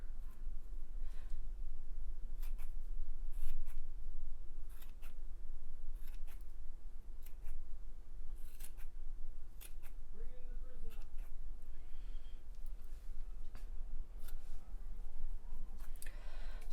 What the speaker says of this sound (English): just trim where you think it needs to be trimmed to make it even and in the shape of a ball